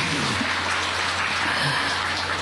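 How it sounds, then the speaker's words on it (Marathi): Audience applause for the women at an event in Wardha, a continuous broad wash of many hands clapping from a sizeable crowd, with a low steady hum running underneath. "एकदा जोरदार टाळ्या त्यांच्यासाठी"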